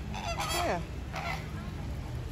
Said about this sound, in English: What are those ducks doing in here?